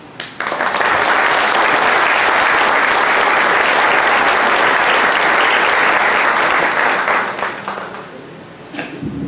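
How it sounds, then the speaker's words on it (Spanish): Loud, sustained applause from a large audience at a nursing leadership event, dense clapping filling the hall for about eight seconds before tapering off near the end. "un gran aplauso para todas"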